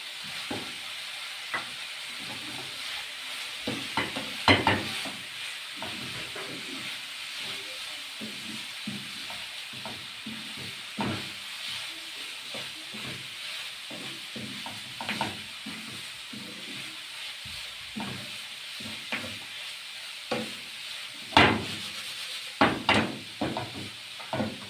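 Alexandrian liver being stir-fried with peppers in a pan hisses and sizzles quietly at close range, broken by irregular scraping stirs and louder bursts of spattering.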